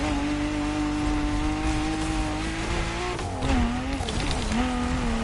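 A car in The Crew Motorfest video game throws a handbrake turn on a rallycross stage: a steady engine drone dips and rises while tires scrub and skid on dirt, all close and continuous.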